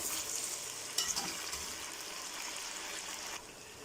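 Chicken pieces for Peshawari charsi karahi fry in a pan with a steady hiss and crackle, occasional stirring scrapes breaking through, a close continuous sizzle with no talk.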